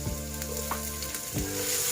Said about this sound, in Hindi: फ्राई हो चुका है हमारा लहसुन और अदरक